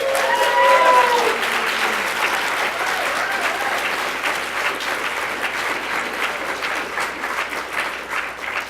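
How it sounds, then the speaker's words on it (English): An audience at a scientific society meeting breaks into sustained applause, a dense wash of many hands clapping that stays loud and even before easing slightly toward the end, with a brief voice near the start. "One more quick round of applause"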